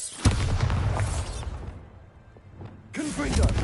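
A Bombarda spell explosion in the PS5 game Hogwarts Legacy, a sharp burst near the start that booms and rolls off, then a second surge of blast noise near the end. A player speaks over it.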